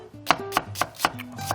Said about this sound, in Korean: 채를 썰어서